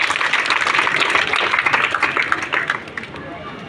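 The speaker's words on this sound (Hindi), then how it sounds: "एक जोर तालियों के साथ सर का स्वागत कीजिए" An audience claps loudly and steadily to welcome a speaker at a motivational talk, dense continuous applause filling the room and easing off slightly near the end.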